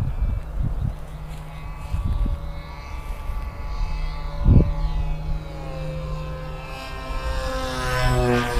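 A Go Discover model airplane making a low pass on a gusty day, its propeller engine droning steadily with rising and falling pitch as it sweeps past, with a few low thumps of wind buffeting the microphone.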